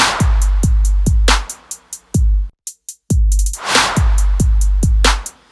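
Punchy 808 kit claps hit in a quick steady pattern, broken by a short gap where a reversed clap swells up as a whoosh and snaps into the next clap before the pattern resumes.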